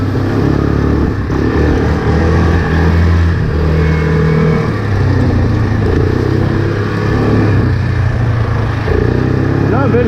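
A 2018 Kodiak 450 ATV engine drones and revs as it drives off on a wet, muddy spring ride, loud and close, with some talking mixed in.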